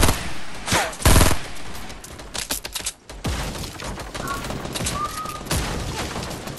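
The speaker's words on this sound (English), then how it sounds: "Oh, they're just shooting us." Rapid game gunfire aimed at players in an online duo match, loud bursts of automatic shots in clusters between short gaps, with frantic players' voices talking over the action.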